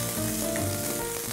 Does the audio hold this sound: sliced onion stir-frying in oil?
yes